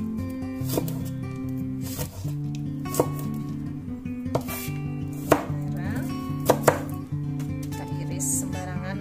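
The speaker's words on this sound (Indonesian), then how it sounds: "sekarang untuk cabai kita iris-iris kecil-kecil saja" Knife slicing chili peppers into small rounds for tempe orek, a series of crisp chopping taps at an uneven pace over steady background music, with faint talk in places.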